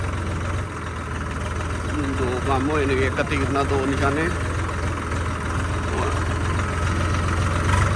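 A tractor engine idles with a steady low throb throughout while people talk over it, during the paddy harvest.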